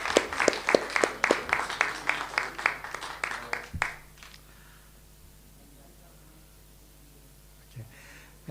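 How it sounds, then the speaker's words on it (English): Scattered clapping from a small seminar audience on a history talk, a loose run of distinct claps lasting about four seconds that stops abruptly, followed by near silence with faint room noise. "A big round of applause for our speaker tonight"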